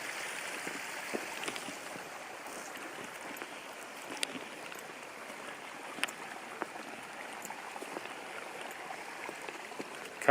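A small waterfall in a stream gives a steady, even broadband rush of falling water at moderate distance, with occasional faint splashes and clicks over it and no voices.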